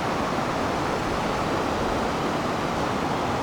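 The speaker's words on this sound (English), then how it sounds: "All this rain and snow, the creeks and stuff is swollen." Swollen creek running high with rain and snowmelt in a West Virginia hollow near an old coal camp, a steady, dense rush of water that holds unbroken throughout, with no voices.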